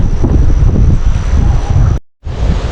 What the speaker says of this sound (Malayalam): കാറ്റ് നന്നായി ഇങ്ങനെ വീശുന്ന സൗണ്ട് നമുക്ക് ശരിക്കും കേൾക്കാം